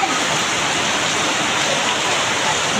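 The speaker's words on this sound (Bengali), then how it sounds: "আল্লাহর রহমতের বৃষ্টি শুরু হয়ে গেছে" Heavy downpour on a holiday Friday, a dense, steady broadband roar of rain falling without break, loud and close throughout.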